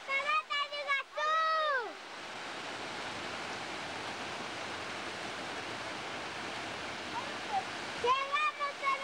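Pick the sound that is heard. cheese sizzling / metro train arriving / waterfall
waterfall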